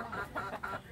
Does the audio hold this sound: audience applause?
no